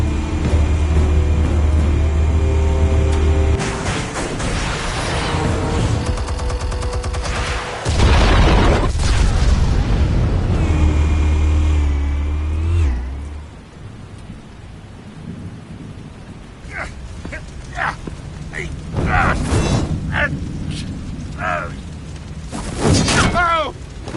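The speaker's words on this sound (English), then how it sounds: "Explosives armed. Fire when ready." Heavy booming detonations of armed explosives in Batman: The Telltale Series, loud rumbling blasts that roll on for several seconds before fading into quieter scattered thuds and crackles, with a voice speaking briefly.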